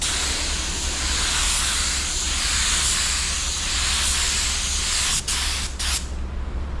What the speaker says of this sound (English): it seems to be spraying all right